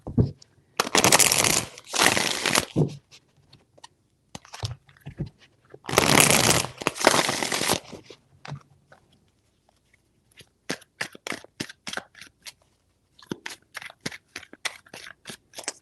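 Tarot cards being shuffled by hand in two long riffling bursts, each lasting about two seconds, followed by a run of short, crisp card snaps and taps.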